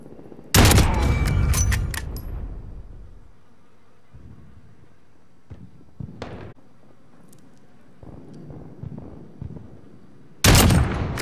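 Shotgun fire in a shooter video game, loud bursts of blasts at the start and again at the end, with faint scattered shots and clicks in the quieter middle.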